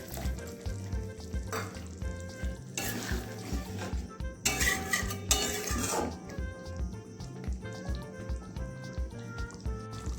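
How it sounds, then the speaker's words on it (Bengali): Egg curry masala fries in a pan with a little water, a close, steady sizzle broken by rhythmic stirring scrapes and a couple of louder clattering spatula bursts against the pan, with no talk. "অল্প সামান্য একটু জল দিয়ে ভালোভাবে আর একটু কষিয়ে নেব"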